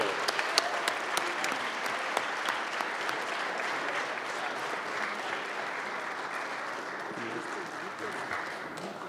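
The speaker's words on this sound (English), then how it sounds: "Let's a round of applause for Brandon Bam Bam Rios." An audience at a boxing post-fight press conference breaks into steady, dense applause that holds for about nine seconds, with a few scattered louder claps and some crowd voices mixed in.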